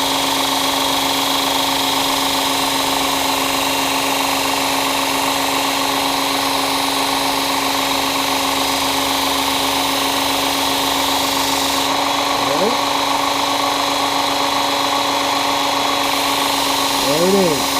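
A belt grinder with a 320 grit belt whirs at a loud, steady pitch while a knife edge is sharpened against it, the drone unbroken with brief shifts as the blade is worked.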